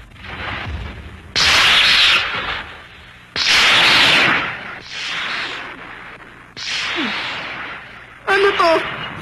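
Several loud crashing cartoon thunder booms from lightning in Doraemon in quick succession, each a broad rumbling burst that swells and fades, with a brief shrill squeal at the end.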